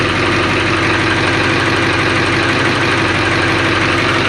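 A 1958 Plymouth Suburban two-door wagon engine idles loud and close, with a steady low rumble and a faint rhythmic knock running through it, with no voices.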